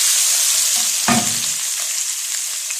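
Garlic drops into a hot frying pan for kebab masala, a close, bright sizzle that swells with a brief burst of stirring and frying noise, then settles back into steady crackling.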